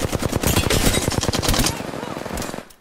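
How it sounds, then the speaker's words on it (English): Automatic gunfire from a rival squad in the battle royale game Apex Legends, rapid dense bursts of shots rattling continuously for nearly three seconds, loud and close, with a faint voice in the mix. "Those shots are from another squad."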